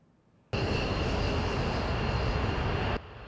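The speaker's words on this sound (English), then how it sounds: "This is Taiwan's most advanced fighter jet, the F16V." A steady, loud roar from a Taiwanese F-16V fighter jet cuts in abruptly, holds evenly for about two and a half seconds, then drops away, leaving quiet background noise.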